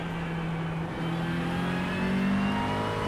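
A McLaren race car engine in a racing video game drones steadily and close, with sustained tonal harmonics that rise slightly in pitch toward the end, holding at high revs without any speech.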